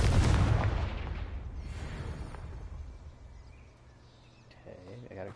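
A Confringo fire spell explodes in the Hogwarts Legacy video game, a loud booming blast at the start that decays into a rumbling tail, with a faint crackle near the end.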